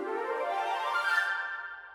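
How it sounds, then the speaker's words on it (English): Woodwinds, clarinet, oboe and flute, race through a fast orchestral run that climbs and shifts partway through, a bright reedy blur of rapid notes lasting two seconds with no voices. "With the flute they sound like this."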